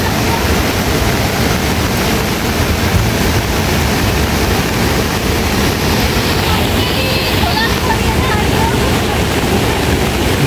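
Rain falls steadily at an outdoor site, a dense, even hiss of water that holds unbroken and loud for the whole stretch.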